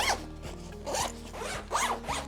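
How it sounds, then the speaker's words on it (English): Plastic zippers on a lululemon Double Zip Backpack 22L are run back and forth several times, making close, crisp ratcheting rasps in quick repeated strokes with no talking. "all the zippers on this bag are actually plastic and they're all super smooth"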